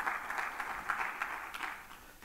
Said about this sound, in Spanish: Dele palmas al Señor si así lo cree.